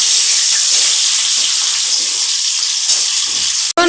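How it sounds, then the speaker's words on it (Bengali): Vegetables fry in a kadai with a black cumin and green chilli tempering, giving a loud, steady sizzle and hiss that runs without a break, with one sharp clank near the end. "এখন আমি সবজিগুলো কড়াতে দিয়ে ভাজা ভাজা করে নেব।"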